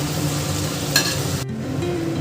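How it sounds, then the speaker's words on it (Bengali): Potatoes and eggplant frying in a pan with moka fish, a steady close sizzle with a brief stirring clatter partway through and no voices. "এখন আলুগুলো দিয়ে দেবো, বেগুনও দিয়ে দেবো"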